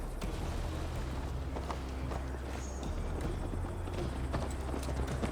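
Hooves clip-clop steadily as a horse carries its rider across Assassin's Creed Valhalla terrain, the footfalls muffled under a constant low rumble of wind and music, with no talk.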